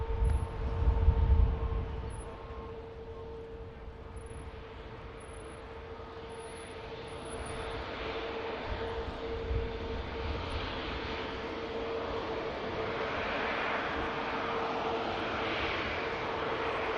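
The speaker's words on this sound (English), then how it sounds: "Beautiful touchdown from a stunning aircraft." A fixed-wing aircraft landing at Manchester Airport: a steady, moderately loud engine roar with a sustained tone, swelling briefly near the start and then holding a broad rushing drone throughout, no talk.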